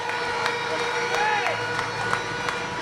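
Grandstand crowd at Poole Stadium speedway applauding the Poole Pirates skipper as he passes after a heat against Glasgow, a broad wash of clapping and cheering with scattered whoops that carries on steadily.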